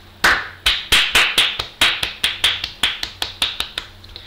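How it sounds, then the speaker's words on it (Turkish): A few people clap after a correct answer in a guessing game, giving about fifteen sharp, separate claps in an uneven rhythm, close and loud, fading slightly toward the end. "Alkışlıyoruz"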